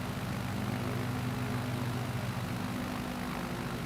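Engine drone of the Optica bubble plane in a flight simulator game, a steady propeller-aircraft hum at constant pitch with no voices, heard quietly throughout.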